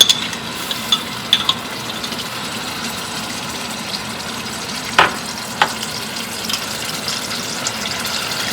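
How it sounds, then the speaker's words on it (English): Sofrito and recaito fry in a pot with a continuous moderate sizzle. Sharp scrapes and taps from stirring break in now and then, and there is no talking. "I'm gonna cook the sofrito and the recaito"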